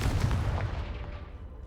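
A Confringo fire spell blast in Hogwarts Legacy lands as a sharp booming burst that decays quickly into a rumbling tail over under two seconds, loud and close, with no voices.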